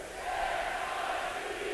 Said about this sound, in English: It's the crowd chants MIZ.